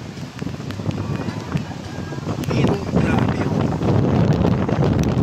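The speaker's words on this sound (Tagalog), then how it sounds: "Malakas na ng hangin." Strong wind of an approaching typhoon buffets the microphone with a constant roar that grows heavier partway through, with a brief voice speaking under it.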